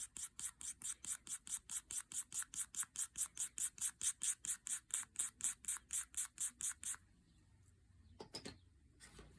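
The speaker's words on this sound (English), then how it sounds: "let's go ahead and shave some of this brown chalk inside the cornstarch." Brown chalk is shaved into cornstarch with a fast, even rhythm of about thirty close, raspy scraping strokes. They stop suddenly, leaving faint handling noise and a couple of small knocks.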